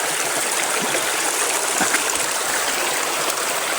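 Water in a stream flows and rushes steadily, a continuous close-up wash of sound with no voices.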